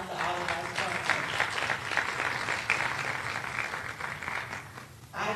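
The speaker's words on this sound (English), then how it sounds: "Give a round of applause to all of our sponsors." Audience applause for event sponsors at a fireside chat, a steady wash of clapping from a crowd that holds for about five seconds before tapering off.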